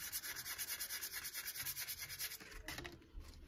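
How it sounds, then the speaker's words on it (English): Sandpaper rubs against a distressed tumbler in quick, even back-and-forth strokes, close and fairly quiet, with the rhythm loosening toward the end. "So that's when I go in with sandpaper and sand around it."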